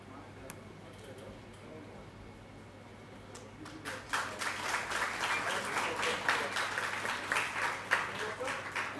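An audience applauds at a prize ceremony for an International Girl Child Day event: a few isolated claps, then sustained, lively clapping that builds and continues steadily to the end.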